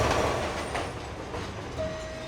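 A subway train rumbles past with a loud, continuous roar of wheels on rails, clattering noise, and a brief high squeal near the end.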